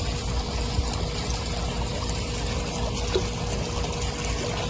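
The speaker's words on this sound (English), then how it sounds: "Get you a little bit of water in here." Pool water being poured into the small vial of a Clorox Pool and Spa Deluxe test kit, a steady close trickle and splash with a soft liquid gurgle, with no talking.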